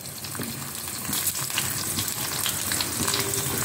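Green chillies frying in hot oil, a dense, continuous close sizzle with faint stirring scrapes, no talking.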